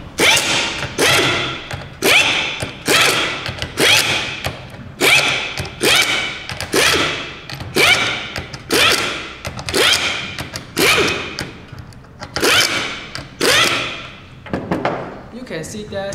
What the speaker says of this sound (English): Then we connect an air screwdriver to demonstrate the efficiencies of my product.